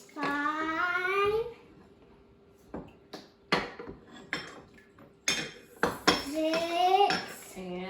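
A spoon stirs lemonade in a glass, giving a few bright clinks and taps scattered through the clip, while voices talk and sing over it nearby.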